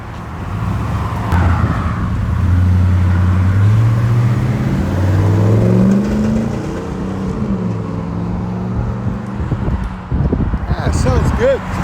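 Chevy Silverado SS 6.0L V8 with true dual Magnaflow exhaust, 24-inch body and 4-inch double wall tips, loud close engine revving that rises and falls in pitch through several sustained pulls.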